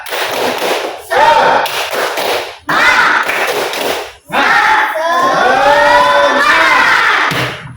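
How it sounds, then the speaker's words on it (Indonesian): Children clap and shout together in a rhythmic chant, loud and close, in bursts separated by short pauses, ending in a sustained group cry. "Tepuk semangat."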